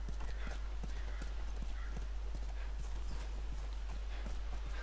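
Horse hooves clip-clop steadily on the ground in The Last of Us, a brisk repeated beat over a constant background hum, close and clear with no talking.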